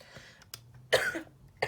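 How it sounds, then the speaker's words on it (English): A person coughs in short bursts: a faint cough near the start, a louder harsh cough in the middle, and another sharp cough at the end, close to the microphone with no talking. "don't know why I'm coughing"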